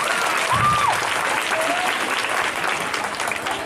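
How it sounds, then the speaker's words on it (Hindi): A quiz competition audience claps for a correct answer in a sustained, even burst of applause, steady from start to finish with a faint tonal whine briefly above it. "ताली मारिए"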